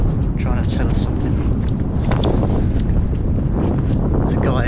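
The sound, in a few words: strong wind on an exposed hilltop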